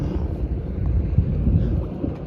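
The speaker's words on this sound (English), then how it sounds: "that little blast of wind is coming through" Wind gusts across a small boat out at sea, a steady low rumble of air buffeting the microphone that swells slightly midway and then eases.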